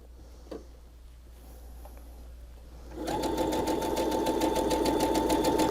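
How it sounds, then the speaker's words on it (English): A domestic sewing machine stitching quilting fabric for a block-of-the-month quilt block, starting after a quiet stretch of small handling sounds and then running steadily and loudly at high speed with a rapid, even mechanical rattle until the end. "I'm holding on to this fabric until it's done stitching"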